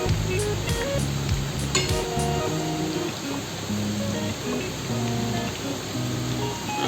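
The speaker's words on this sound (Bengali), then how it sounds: "বড়াগুলোকে এপিট ওপিট উল্টিয়ে পাল্টিয়ে দিয়ে খুব কড়া করে ভেজে নিতে হবে।" Pumpkin leaf fritters (bora) fry in hot oil with a steady, close crackling sizzle, joined by soft music and a few brief clinks early on.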